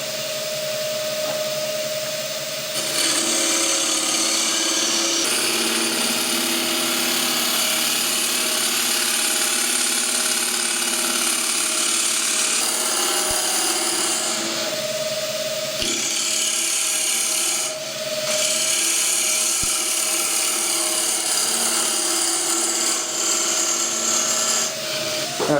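A green timber bowl turning on a wood lathe while its inside is hollowed deeply toward the foot gives a loud, steady whining scrape that runs almost without a break, dipping briefly a few times as the tool lifts.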